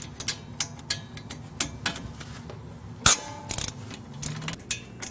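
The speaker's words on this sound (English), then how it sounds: "you're going to grab a 15mm socket, remove this bolt here, there's one on top and one on the bottom." Ratchet with a 15mm socket turning brake caliper bracket bolts, a series of sharp clicks and metallic taps at an uneven pace, close up with a louder clank midway.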